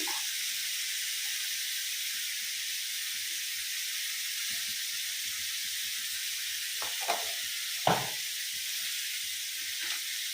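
Tomatoes dropped into a hot pan set off a steady, continuous sizzle and hiss that runs throughout at moderate level, with a few brief clatters near the end.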